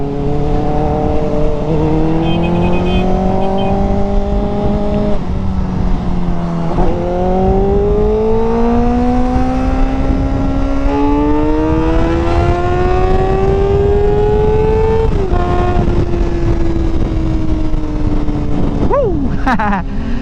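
A motorcycle engine revs hard toward 12,000 RPM, its pitch climbing and falling in long sweeps, then a sharp final surge, loud and close with a voice talking briefly over it.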